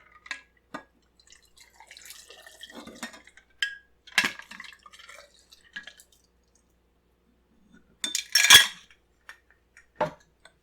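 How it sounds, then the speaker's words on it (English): Lilac cocktail poured into glasses, with a few short liquid splashes and glass clinks scattered between quiet gaps, closing with a louder burst of pouring and clinking. "Pour into glasses."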